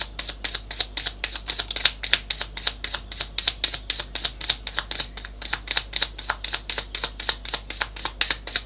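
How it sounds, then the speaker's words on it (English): Tarot cards being shuffled in a rapid, steady riffling rhythm of crisp, close clicks that repeats evenly throughout, heard alone without talk. "I want another shuffle."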